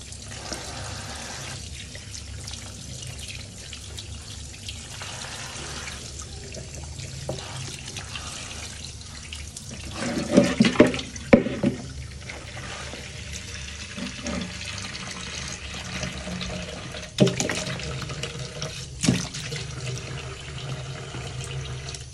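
Peetha ingredients being squeezed and washed by hand in water, making sloshing, trickling sounds with a few sharper splashes and clinks partway through, close and moderately loud, with no voices.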